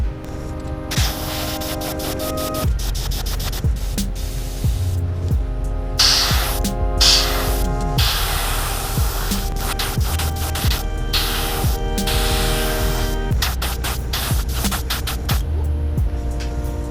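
Continuous hissing spray of pearl green back coat from an airbrush onto a custom Wiggle Wart fishing lure, with short gaps between bursts over a loud steady hum; close and sustained, no talking.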